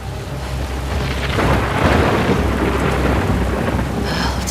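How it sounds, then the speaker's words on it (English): Heavy thunderstorm in The Last of Us Part II video game, with dense, steady rain pouring on surfaces and a deep, loud rolling thunder that swells in the middle. "The darkness has returned. The storm is here."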